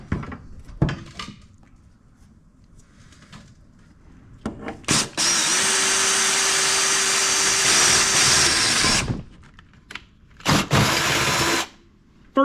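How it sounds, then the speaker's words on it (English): A power drill with a 1/2-inch bit bores a hole into a third-generation Camaro's underbody, giving a few short trigger pulls and then a loud, steady four-second whine, followed by more brief bursts. Faint clanks of handling sound between them. "so I guess it's time to get the drill out"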